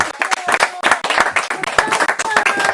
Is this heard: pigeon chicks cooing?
no